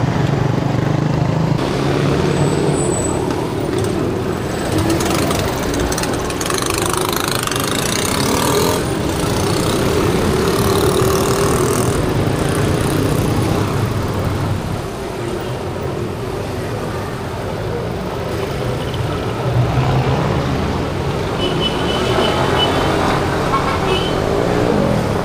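A Yamaha Nmax Techmax Turbo scooter fitted with a VMAX Racing Onyx muffler runs at a steady, loud exhaust drone close by, with slight shifts in pitch over its length.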